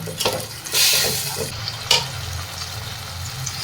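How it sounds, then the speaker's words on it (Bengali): Mustard spice paste sautéing over a medium gas flame in a pan for a bata fish curry: a loud hissing sizzle surges twice between short spoon scrapes and clacks, close up with no voices. "গ্যাসের ফ্লেম মিডিয়ামে দিয়ে আরও একটু সময় আমি মশলাটা কষাবো"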